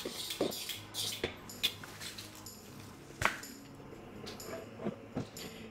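Ingredients mixed in a bowl with a utensil, giving soft scraping and occasional light clinks of metal against the bowl in an irregular rhythm, close but quiet.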